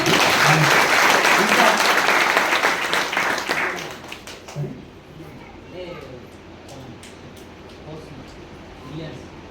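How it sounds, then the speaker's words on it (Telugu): An audience applauds loudly at a talk event, dense clapping for about four seconds that fades into scattered claps and room noise. "ఫస్ట్ ఒకసారి క్లాప్ చేయాలి."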